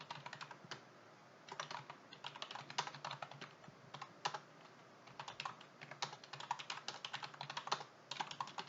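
Data being entered into an Excel spreadsheet on a computer keyboard produces rapid, irregular keystroke clicks in close bursts with brief pauses, quiet and without speech.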